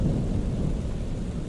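Heavy rain pours down in a dense, continuous roar with deep rumbling thunder underneath, loud and steady throughout with no voices.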